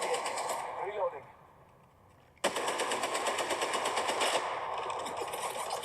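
Rapid automatic gunfire from a mobile shooter game played on an M2 iPad Pro, a dense rattling burst that cuts out briefly, then resumes loud and sustained, with bright ringing overtones throughout.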